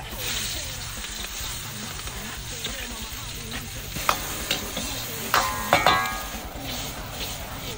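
Onion sizzling in cooking oil in a pan at a camping trip, a close, steady frying hiss with scraping stirs and a few sharp clicks and pops.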